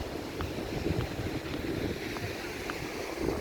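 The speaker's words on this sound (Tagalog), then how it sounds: "Ang dagat." Sea waves at the Jeddah yacht club, heard as a steady, close wash of surf and wind rumble filling the whole stretch without letup.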